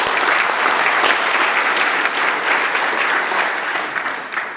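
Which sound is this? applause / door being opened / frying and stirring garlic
applause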